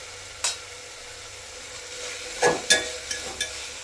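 Spiced masala with red chilli powder and turmeric, cooked for a pulao, fries softly in a pan while a spoon scrapes through it in a few quick, close strokes over a faint, steady sizzle.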